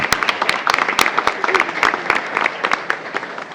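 Audience applause at a school board meeting honoring a senior of the month, close, loud clapping from a room of people with sharp individual claps standing out and voices murmuring underneath.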